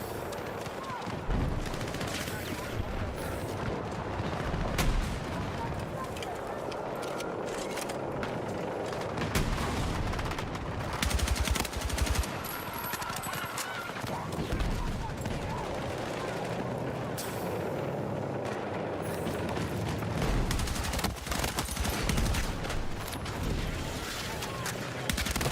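AK-205 assault rifle fire in Battlefield 6, with repeated bursts and single shots scattered across a busy battlefield mix, fairly close, with someone talking over parts of it.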